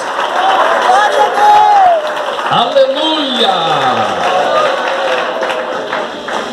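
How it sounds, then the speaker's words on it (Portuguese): Church congregation at an IPDA gathering in Araraquara clapping in a loud, dense burst of applause, with voices shouting and cheering over it throughout. "pode dar uma linda salva de palmas para Jesus"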